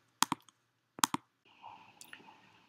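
Two pairs of sharp, close clicks from a computer mouse while saving changes on a web page, followed by a brief stretch of soft rustling noise.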